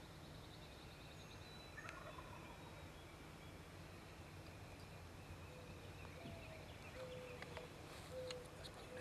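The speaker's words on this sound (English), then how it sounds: "I think everyone's got a gobble." A wild turkey gobbler gobbles in a quiet outdoor setting, heard faint and distant over a low steady background hiss, with a few short bursts near the end.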